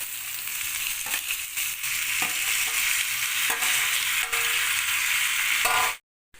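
Tomatoes dropped into meat curry frying in a pan with colocasia and other vegetables, a steady close sizzle under occasional stirring and scraping clicks, then an abrupt stop.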